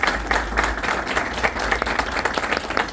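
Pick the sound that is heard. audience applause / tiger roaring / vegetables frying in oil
audience applause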